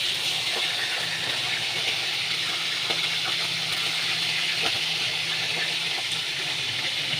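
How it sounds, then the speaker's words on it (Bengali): Fish pieces frying in a pan of hot oil with a dried red chilli, giving a steady, close sizzling hiss that runs unbroken throughout with no talk. "মাছগুলোকে ছেড়ে দিয়েছি, ভাজা করে নেব।"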